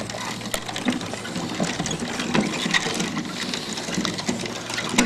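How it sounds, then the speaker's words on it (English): A hand-cranked, all-wooden peg-and-slot mechanism with wooden chain and sprocket turns a fan blade, producing a continuous busy clatter of rattling, knocking wooden parts with irregular small ticks throughout. "here's the fan blade turning"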